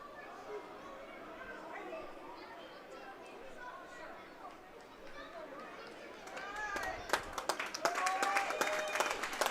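Crowd at a junior lacrosse playoff game: low murmur and chatter that grows into scattered clapping and applause near the end, with some voices mixed in.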